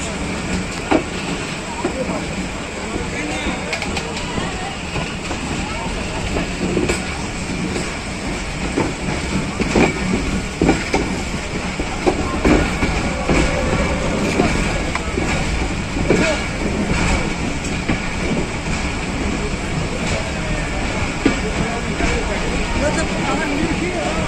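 A Pakistan Railways Awam Express train runs on its rails between Rawalpindi and Peshawar, heard from inside as a steady, loud rumble with faint rhythmic clatter and hiss for the whole stretch.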